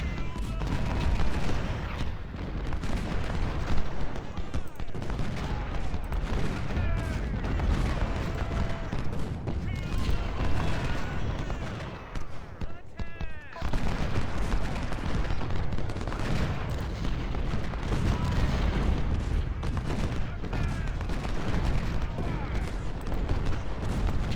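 Civil War–era artillery batteries firing in a battle strategy game at Spotsylvania's Laurel Hill, a dense, continuous barrage of cannon and rifle fire rolling on without pause, briefly thinning near the middle before swelling again.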